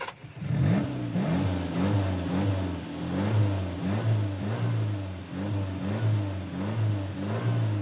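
A car engine revs in a steady, repeating pattern of rising and falling tone, close and moderately loud, with no talking.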